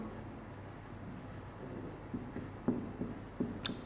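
A teacher writing on a board during a physics lecture on dimensional analysis: faint scratchy strokes and light taps over a steady room hiss, growing more distinct toward the end.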